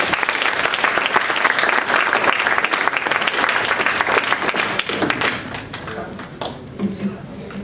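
An audience applauds student presenters at a university symposium, loud sustained clapping that thins and fades toward the end as a voice begins to speak.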